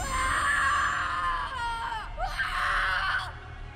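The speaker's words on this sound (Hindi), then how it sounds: "उसके बाद बस उसकी चीखें सुनाई दी।" A boy screams in a horror-story scene, a sustained high, strained cry that breaks briefly and then resumes, loud and close, with no talking.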